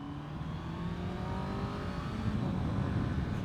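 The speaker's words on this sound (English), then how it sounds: "this motor needs to be revved out and revved up in order to get into the power band." A 2024 Honda CBR650R motorcycle's four-cylinder engine heard while riding, revs climbing and shifting with wind noise, a steady mid-level whine that builds slightly toward the end.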